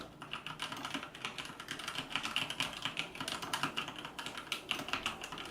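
Continuous rapid clatter of a Maxtill G610K V2 mechanical keyboard's key switches as someone types quickly and evenly, close to the listener, with no speech at all.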